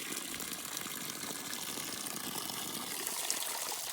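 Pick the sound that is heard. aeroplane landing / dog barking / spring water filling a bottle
spring water filling a bottle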